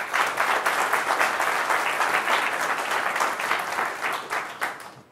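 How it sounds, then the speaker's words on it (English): Audience applause at an automotive cyber safety conference talk, a dense steady wash of many hands clapping that carries on for about five seconds before tapering off at the end, with no speech over it. "So let's give a round of applause to GM."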